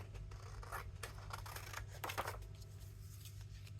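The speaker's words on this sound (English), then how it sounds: "Excuse me while I trim off" Scissors snip through a glossy magazine page, trimming away a strip, in a quick run of short crisp cuts over a steady low background hum.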